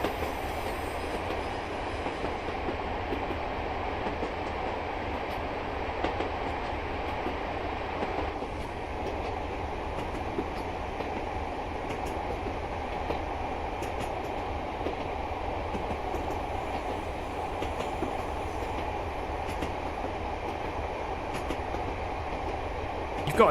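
Mark 1 railway coaches roll steadily in Train Simulator Classic, a continuous rumble with faint clickety-clack and occasional wheel squeal, unbroken and unaccompanied by speech.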